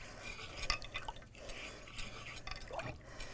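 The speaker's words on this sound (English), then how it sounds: "I'm just going to rub that off with water." Water runs and drips as etching cream is rinsed off glass by hand in a kitchen, soft irregular splashing and trickling close by with faint clinks.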